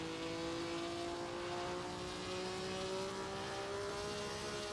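Race car engine at Bremgarten in a Swiss GP racing video game, a steady droning whine slowly rising in pitch, continuous and moderately loud with no break.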